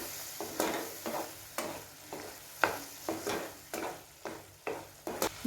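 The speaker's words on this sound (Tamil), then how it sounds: "நம்ம இந்த புளி கரைசலை கொதிக்க விட்டுக்கலாம்" A spoon scrapes rhythmically through thick tamarind paste simmering in oil in a pan, roughly twice a second, over a soft sizzle of oil; no voices.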